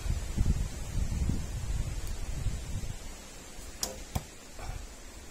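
Arrow loosed from a bow at 30 metres, heard as two sharp distant snaps over steady outdoor wind rustle.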